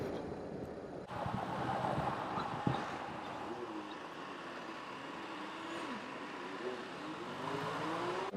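London street traffic with motorbikes, a steady dense roar of engines and passing vehicles with a brief thump early on, no talking.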